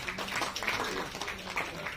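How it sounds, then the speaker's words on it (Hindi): A crowd at a poetry book launch ceremony claps together in a steady, fairly faint wash of applause that lasts throughout. "इनके लिए एक जोरदार तालियां होंगी।"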